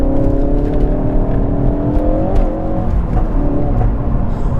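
Ford Focus RS Mk3 in sport mode with a DSC sport controller fitted: a steady, droning engine note from inside the cabin, pitch rising and dipping slightly with throttle over about five seconds, road rumble underneath and no talk.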